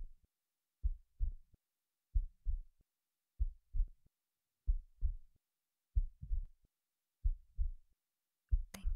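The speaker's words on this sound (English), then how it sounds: "calming me with their heartbeat." Slow, steady heartbeat in close, soft paired thumps repeating about once a second, muffled and low against silence.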